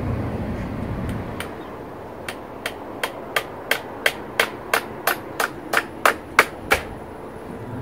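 Hammering a nail into old timber during garden work, a steady series of about fourteen sharp, close, ringing blows at an even rhythm, each strike crisp and separate over quiet outdoor background.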